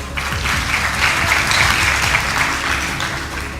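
An audience at a music awards show claps continuously, a full, steady round of applause that swells slightly in the middle.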